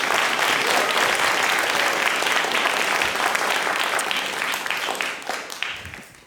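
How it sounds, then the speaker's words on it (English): Loud, dense applause from a concert audience at a scholarship recital, sustained throughout and tapering slightly at the end, with no voices over it. "Can we just have another round of applause for Lila's debut?"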